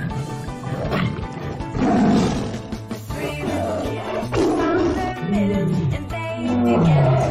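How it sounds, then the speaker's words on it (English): A tiger roar sounds amid a children's phonics alphabet song, with loud rumbling growls blended over bright, busy background music. "T for tiger."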